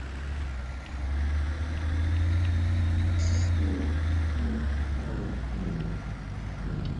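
A heavy lumber truck in the FiveM video game rumbles steadily at close range as it is put into reverse, its low engine drone holding throughout with one brief high chirp partway through.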